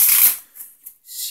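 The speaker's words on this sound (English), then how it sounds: "She can even give the deck a shuffle." A deck of playing cards is shuffled during a card trick, giving a short crisp riffle burst up close, followed by a couple of faint soft card flicks.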